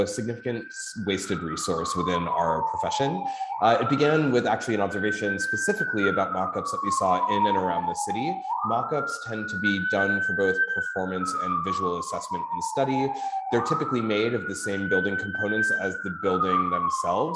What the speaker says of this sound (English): Apologies for the siren outside the window.